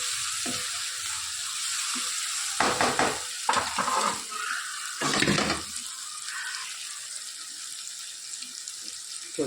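Onions and tomatoes with spices sizzle and fry in a pan over a gas flame, a steady close hiss broken by several louder scraping stirs of a spoon.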